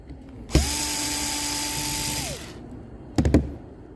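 Four screws backed out of a POGO Pro soil sensor with a Phillips driver, heard as a steady motorized whir lasting about two seconds, followed by a few quick clicks and rattles, close and clear with no talking.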